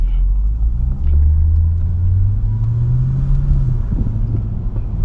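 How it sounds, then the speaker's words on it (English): A 2008 Lexus GS460 V8 accelerating, heard from inside the car as a loud, steady low rumble that climbs smoothly in pitch and then settles. "Whew, sounds of the V8, baby."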